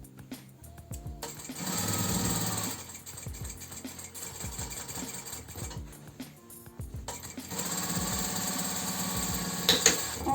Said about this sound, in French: On vient piquer les coins de notre sac 1 cm du bord.